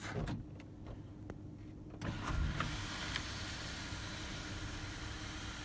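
Electric sunroof motor of a silver 2006 Chrysler 300 sedan with a 3.5L V6, a steady mechanical whir running at moderate level after a few clicks, with a low idling hum beneath and no talk.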